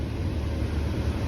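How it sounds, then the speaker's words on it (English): A car crossing a bridge at night in a remote camping area, heard as a loud, steady low rumble of engine and exhaust filling the moment. "Sounds like there's a car that just flew across the bridge"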